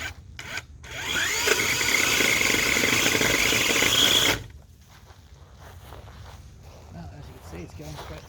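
A Makita electric multi-tool saw cuts into a hardwood tree trunk, giving a loud, steady buzzing rasp for about four seconds before it stops abruptly, followed by quieter outdoor background noise.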